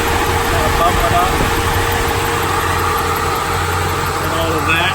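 A classic car engine idles steadily with its radiator fan running, a constant loud drone and whir throughout with no break.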